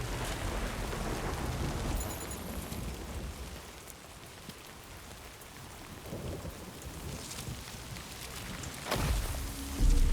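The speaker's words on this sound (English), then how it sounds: "So this is definitely Timefall" Timefall rain in Death Stranding 2 falls as a steady wash of rain on surfaces with low rumbling thunder, loudest at the start and end, with no talk over it.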